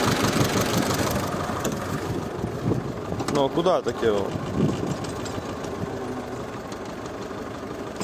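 A T-25 tractor engine chugs at a steady idle while ploughing a field with a plough, close and loud, as someone talks over it briefly.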